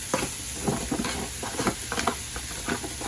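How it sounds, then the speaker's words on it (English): Mushrooms cooking down in a pan give a steady soft sizzle, with irregular stirring clicks and scrapes close by and no talking. "And of course the mushrooms. So these are going to take a while to cook down, right?"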